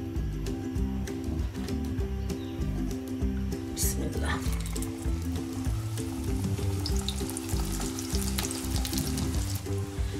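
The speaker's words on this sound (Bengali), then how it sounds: "আমি পরোটাটা ভাজতে চলে আসলাম। ফ্রাই প্যানে কিছুটা তেল দিয়েছি" A cheese-stuffed paratha fries in a small amount of oil in a frying pan over medium-low heat, giving a continuous crackling sizzle under a steady low hum and some talking.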